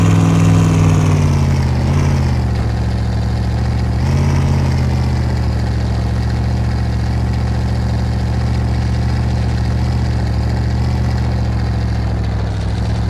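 A modded Ford Bronco truck idles in the SpinTires off-road game, its engine droning loud and steady at close range with a brief rev wobble near the start, then an unbroken hum.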